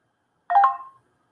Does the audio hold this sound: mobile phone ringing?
yes